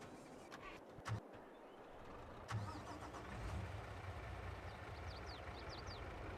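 A truck engine in the Farming Simulator 22 video game cranks, catches and settles into a steady low idle, with a couple of clunks early on and faint chirping birds in the background.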